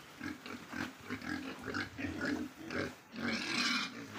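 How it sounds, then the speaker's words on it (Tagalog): Pigs grunting repeatedly in low, rough bursts, several growing pigs close by on a farm, with a louder squealing grunt near the end. "Bali 24 dito yung nakalagay na baboy."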